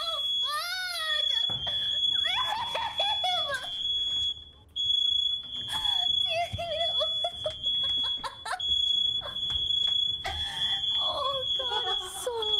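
A shrill, continuous high-pitched fire alarm tone sounds throughout a zoo while a child cries and people talk excitedly over it.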